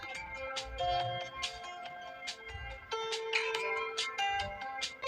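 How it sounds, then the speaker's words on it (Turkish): A phone ringtone plays a repeating electronic melody, moderately loud and close, with a steady pulsing rhythm throughout and no voices. "Telefon bir kez daha çalınca"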